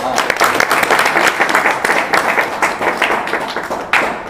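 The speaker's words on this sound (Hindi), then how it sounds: "भैया ताली बजा के स्वागत करें सब लोग।" Audience at a community society event clapping to welcome guests, steady dense applause lasting several seconds before tapering off.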